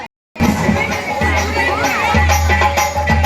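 An audience at a children's Odia folk dance and song performance cheers and claps loudly after a brief silence, with children shouting and crowd noise continuing throughout.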